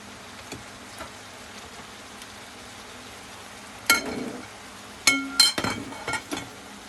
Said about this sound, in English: I'm going to start working on cracking the eggs.